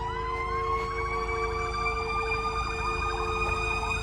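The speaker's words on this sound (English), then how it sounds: "And please excuse the sirens." Several emergency vehicle sirens sound outside, with overlapping rising and falling wails that are continuous and fairly loud over a low engine rumble.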